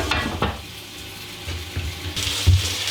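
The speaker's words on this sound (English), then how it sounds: "So add some water to the pan and stick the lid on top of the pan and let them steam" Gyoza dumplings sizzle and steam in a pan after water is added, a close, continuous frying hiss with bursts of louder crackle and faint knocks of cookware.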